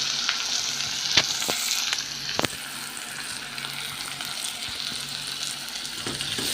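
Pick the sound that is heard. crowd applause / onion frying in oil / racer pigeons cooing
onion frying in oil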